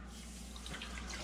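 Water pouring into a small sauce pot, about three quarters of a cup, a soft steady trickling and dripping close by with a low hum beneath, no talking.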